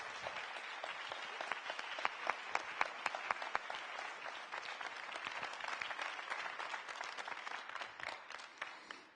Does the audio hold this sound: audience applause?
yes